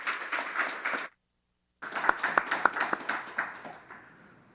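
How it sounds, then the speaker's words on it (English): Audience applause welcoming guest Garland Tucker at a campus event at Patrick Henry College, a steady crowd of clapping that breaks off briefly, then returns with a few sharp close claps before fading out. "students, let's give him a round of applause"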